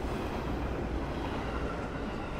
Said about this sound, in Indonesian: bisa melihat lalu lalang KRL yang tiap 5 menit itu rame banget